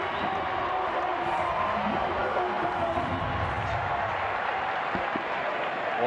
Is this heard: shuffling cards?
no